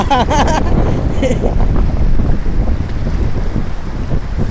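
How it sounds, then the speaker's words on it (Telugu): Wind gusting across a lake, with water lapping and small waves pushed along the shore; steady broadband rush close to the microphone, and a voice speaks briefly near the start. "గాలికి అల్ల కొట్టినప్పుడు నీళ్ళు వెళ్ళిపోతున్నాయి"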